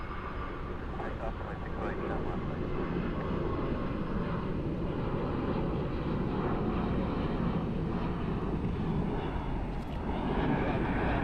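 Aer Lingus Airbus A321 jet taking off on runway 6 right at Cleveland at night, a steady, broad engine roar holding level and loud throughout with no talk over it.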